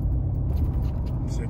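Inside the cabin of a fishing truck, a steady low engine drone fills the space, close and constant, with faint rattling on top.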